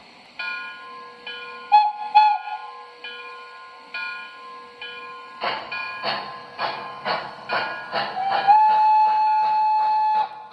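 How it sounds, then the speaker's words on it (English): High-pitched steam whistles sound from O gauge model European steam engines, one long tone and a couple of short toots, with rhythmic chuffing of a small engine between them. "Listen to these high-pitched whistles."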